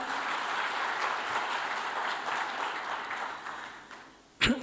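Audience applause fills the hall at the Airtel 5G launch event in Kenya, a steady dense wash of clapping that thins out toward the end before a brief loud burst closes it.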